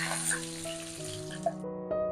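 Ground beaten-rice batter hits tempered oil with mustard seeds and lentils in a kadai, giving a soft crackling sizzle with a few sharp pops over a faint tonal background, brief and close.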